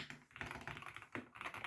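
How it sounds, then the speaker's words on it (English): A stock Wooting 60 keyboard being typed on up close: quick, irregular runs of crisp key clacks with short pauses between bursts. "Let's do a quick typing test on this."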